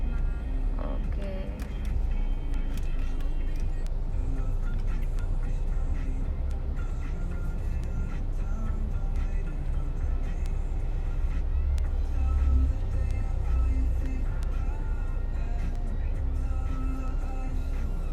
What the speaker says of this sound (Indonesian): Mobil nyala mulu ya